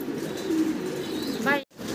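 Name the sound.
black homer pigeons cooing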